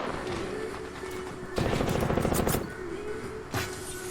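Machine-gun fire in a first-person shooter game: a dense, loud burst of rapid automatic shots lasting about a second, set against quieter game ambience, with a single sharper report following shortly after.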